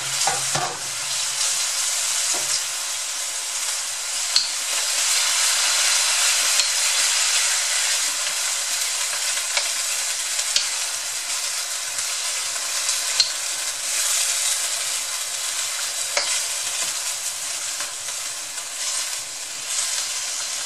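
Marinated beef stir-fries in hot flavored oil, giving a loud, continuous sizzle and crackle with scattered pops and occasional scraping as it is moved in the pan.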